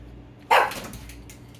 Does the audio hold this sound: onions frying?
no